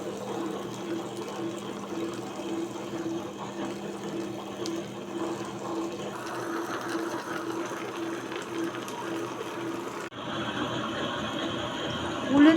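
A wet grinder churns soaked urad dal into batter with a steady whirring hum and watery swishing that runs continuously, shifting tone partway through as the batter is stirred.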